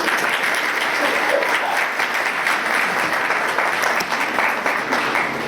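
Sustained applause from a congregation at a Sunday church service, a steady wash of clapping filling the room from start to finish with no break.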